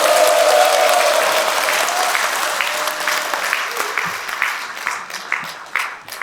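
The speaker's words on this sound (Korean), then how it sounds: "큰 박수 부탁드립니다." A large crowd at a launch ceremony claps loudly, the applause starting full and gradually thinning into scattered claps toward the end.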